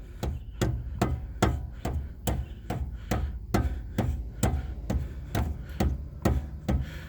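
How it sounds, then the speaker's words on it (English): A rubber mallet gently whacks a Jeep Cherokee suspension part during a Rough Country lift kit install. About a dozen even, dull thuds fall in a steady rhythm at close range, and nobody speaks. "I took a rubber mallet actually and I Gave it a couple whacks, very gently, on here"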